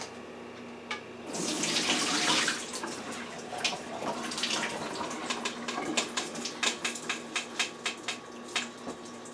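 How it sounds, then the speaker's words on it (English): Rinse water poured off rice into a strainer over a sink, a steady splashing gush that eases into scattered drips and small clatters, close by with no talk. "I'm going to pour the water off into the strainer, leaving just the rice in the strainer."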